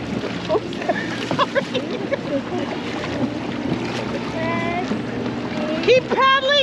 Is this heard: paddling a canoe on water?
yes